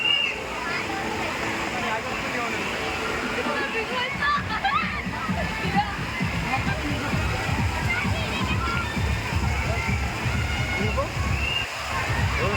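Running water at a water park splashes and sloshes continuously, with a busy, rushing wash of sound under faint background voices and crowd noise.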